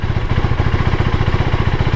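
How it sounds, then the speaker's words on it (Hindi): A 2024 KTM Duke 390 motorcycle engine idles just after a self start, a steady close, rapid thumping putter with even pulses and no voices. "सेल्फ स्टार्ट किया, हेडलाइट बंद है।"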